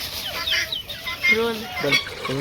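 Farm chickens cluck in short, repeated bursts close by, several birds calling over one another in a brief stretch.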